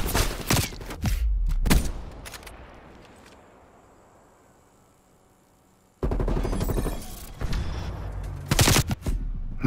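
Rapid submachine-gun fire in a video game, loud bursts clustered at the start, fading into a quiet lull, then another dense stretch of rattling shots near the end.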